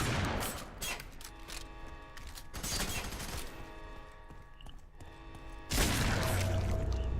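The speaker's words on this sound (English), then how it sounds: "And this shotgun is just nasty on this game." Shotgun blasts in the first-person shooter FEAR 3, heard as several loud booming bursts scattered through a noisy combat mix, with a heavy final blast near the end.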